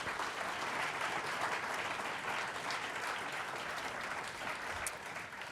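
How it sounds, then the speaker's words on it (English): An audience applauds mayoral candidates at a forum in a city's main library: a dense, even wash of clapping from many hands that holds steady throughout and eases only slightly near the end. "A round of applause for our candidates."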